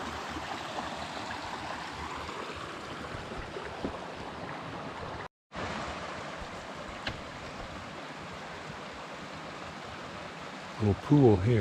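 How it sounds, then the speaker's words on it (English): A creek stream runs through the Arizona countryside near Payson, a steady, close wash of flowing water with a brief break partway through and some handling noise at the end. "We finally made it to some running water"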